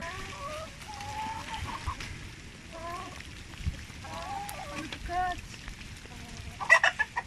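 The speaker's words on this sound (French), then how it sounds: "C'est ma poule préférée parce qu'elle prépare 8 œufs par semaine à peu près." A hen clucks in short repeated phrases, with other chickens nearby and a sharper squawk near the end, fairly faint against a quiet background.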